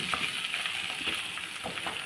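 Cluster beans sizzle and fry steadily in a pan for a cluster bean curry, a soft continuous crackle with faint stirring clicks, heard close and alone.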